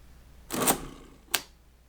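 A Friden STW10 mechanical calculator runs a single add cycle from one button push: a short whirring mechanical clatter, then a sharp clack as it stops, close and alone in a quiet room.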